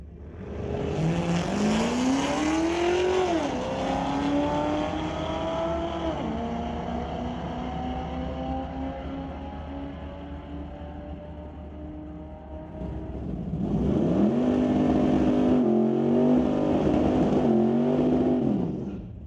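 Corvettes drag race at Mission Raceway Park during a street-legal night. A loud engine climbs through rising gearshifts and fades down the strip, then a second car roars up close with sharp shifts.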